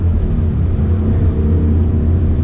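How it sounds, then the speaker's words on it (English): A 460 HP 2017 Ford Mustang GT RTR with a V8 engine on a race track makes a loud, steady, close engine drone with a continuous low rumble. The note holds evenly, with no clear rise or fall in revs. "V8 soundtrack is welcome for once"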